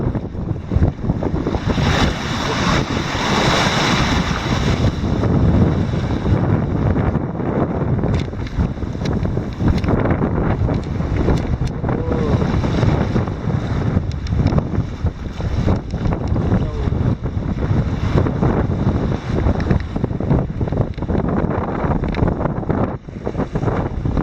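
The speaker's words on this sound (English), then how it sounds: "Even a little more ugly now than it was before. Some of these waves are big." A small sailboat in rough open ocean takes big waves under strong wind, with loud, continuous buffeting roar, rushing water and hull splashes that surge and fade over about twenty-four seconds.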